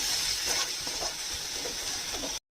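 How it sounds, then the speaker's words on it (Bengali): Spice paste of turmeric, cumin powder, chili powder and salt sizzles and fries in a pan, a steady close hiss with faint scraping stirs throughout, cutting off abruptly at the end. "এবারে এই মশলাটাকে একটুখানি আগে কষিয়ে নেব"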